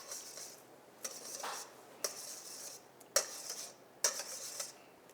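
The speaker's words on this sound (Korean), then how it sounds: "버터를 좀 부드럽게 풀어주시고" Butter being stirred to soften it in a bowl: faint scraping with sharp clinks of the utensil against the bowl about once a second, close and quiet.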